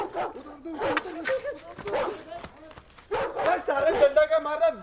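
A dog barks in a quick series of sharp yaps and bow-wows, close and fairly loud, with whimpering yips between bursts, mixed with people shouting nearby.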